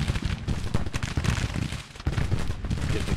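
Musket volleys from skirmishers in a Civil War battle game, a dense, crackling fusillade of overlapping shots rolling on steadily throughout, with deep booming underneath.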